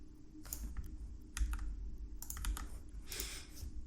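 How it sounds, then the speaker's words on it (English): Keys click softly on a computer keyboard in short bursts of typing, faint and close over a low background hum. "if I type in the author name, and then if I type in the title"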